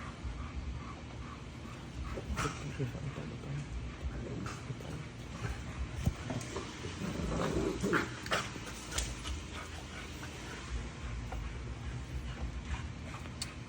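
Two dogs playing at a distance indoors, with faint whimpers, yips and scuffling over a steady low background rumble.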